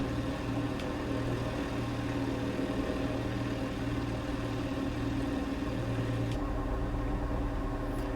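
A Van's RV-10 aircraft engine in a flight simulator drones in a steady, even hum at low volume, continuous with no talking.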